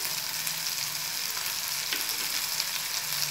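Green chillies sautéing in a pan for a tamarind chilli gravy crackle and sizzle steadily up close, with faint stirring scrapes mixed into the constant hiss.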